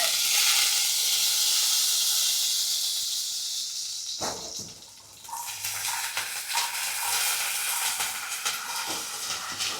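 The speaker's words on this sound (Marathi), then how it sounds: "लसूण तेलात" Garlic sizzles and spits in hot oil during home cooking, a loud, continuous hiss close by that dips briefly partway through, then returns with crackling pops.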